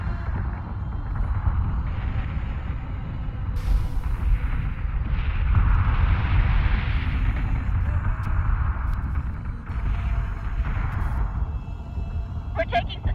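Sustained gunfire and rumbling explosions in the video game Sin and Sacrifice, loud and continuous, with voices calling out over the battle.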